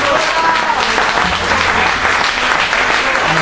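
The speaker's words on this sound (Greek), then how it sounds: "Ένα χειροκρότημα στον Νίκο." An audience at a live comedy show on Leros applauds with dense, loud clapping that holds steady throughout, close and continuous with no pause.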